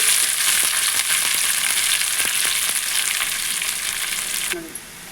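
Chopped onions and curry leaves fry in hot oil with a loud, dense, steady sizzle and a few stirring knocks, and the sizzle drops away abruptly near the end.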